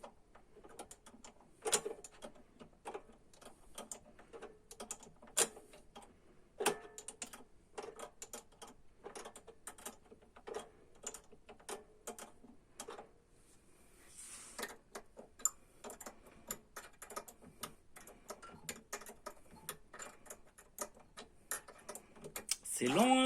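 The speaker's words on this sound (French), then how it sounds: "C'est long hein, de dévisser." Cylinder head bolts on a Fiat 500 engine being unscrewed, a long run of faint, irregular ratchet clicks and ticks that speed up into a fast burst near the end, with someone talking at times.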